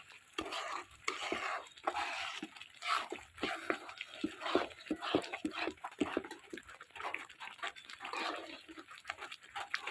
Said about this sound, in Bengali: ফোড়নটা দিয়ে দিলাম।